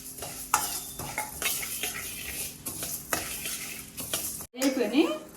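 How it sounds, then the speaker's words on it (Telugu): Mustard seeds fry over a low flame in a pan while being stirred, giving a steady crackling sizzle with repeated sharp scrapes and clinks of a utensil against the metal, close and without any talk. "ఒక హాఫ్ స్పూన్ ఆవాలు ఇవి మాడనివ్వకుండా మనం ఫ్రై చేసుకుందాం"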